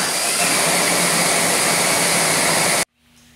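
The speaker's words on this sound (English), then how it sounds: "we add them to the grain mill where we crush them" A grain mill crushes toasted grains for beer brewing, a loud continuous grinding roar that cuts off abruptly near the end and leaves a faint hum.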